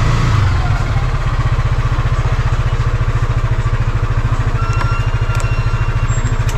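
A motorcycle engine idles close by with a steady, fast low throb that holds evenly throughout with no revving.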